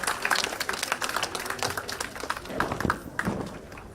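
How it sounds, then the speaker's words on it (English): An audience claps for a guest speaker being welcomed at a foundation event, the individual claps crisp and close, building into a lively patter that thins slightly near the end. "Please give a big round of applause to Vandana ma'am"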